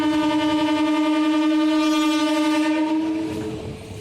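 A Panskura local train on the Howrah to Uluberia line sounds a loud, long, sustained horn over the rumble of rolling carriages, the blast tapering off near the end.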